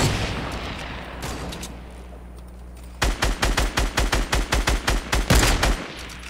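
Gunfire in the game Fortnite: scattered distant shots at first, then a close, rapid string of about fifteen evenly spaced loud shots, alone without talk.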